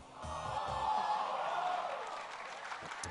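A tournament crowd at a Red Bull Seattle esports match cheers and applauds in a steady, broad roar that swells and then eases slightly, with no clear talk over it.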